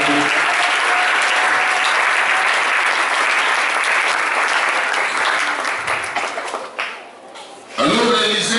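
A church congregation at a Sunday service claps together in sustained, dense applause that tapers off near the end before other sound resumes.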